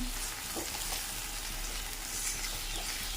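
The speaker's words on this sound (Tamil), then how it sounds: "அரைச்சி வச்சுருக்கோம்ல தக்காளி, அதை போடுறேன். நல்லா வதங்கட்டும்" Ground tomato sautés with onions in a pan for an okra masala curry, a soft even frying hiss with a few gentle stirring scrapes, fairly quiet and without speech.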